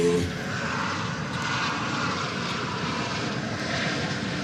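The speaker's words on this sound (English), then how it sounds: "is American Flight 1090 from Tulsa, an Airbus A321" An Airbus A321 airliner, American flight from Tulsa, passes over an airport as a steady, broad engine roar holds throughout, fairly constant in loudness with no voices.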